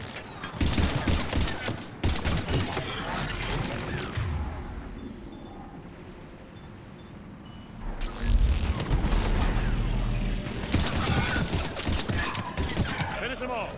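Gunfire in the video game Mass Effect 3, dense bursts of rapid shots and explosive booms in two loud stretches separated by a quieter lull of rumbling combat ambience.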